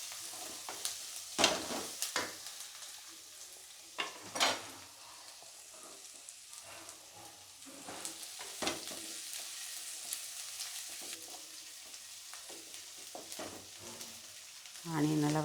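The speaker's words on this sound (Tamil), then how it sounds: "ஆனியன் நல்லா வதங்கிடுச்சு" Bitter gourd and onion fry in a pan with a faint, even sizzle, broken by several sharp clacks and scrapes of a stirring spoon, and a louder rush of sizzling near the end.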